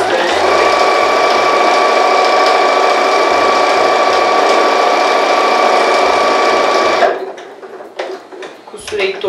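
A sewing machine runs in a steady, fast continuous whir while stitching around a fabric organizer basket, then stops near the end, leaving a few faint clicks and handling noises.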